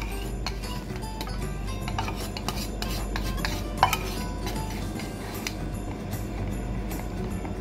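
A spoon stirs condensed milk ice cream mixture in a bowl, with soft, steady scraping and rubbing and a single brighter clink partway through, close and fairly quiet with no talking.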